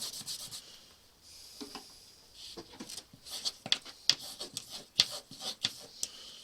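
A knife is stropped on rough unfinished rawhide leather dressed with stropping compound, giving close, quiet rhythmic scraping strokes in bursts, with a few sharper rasping swipes.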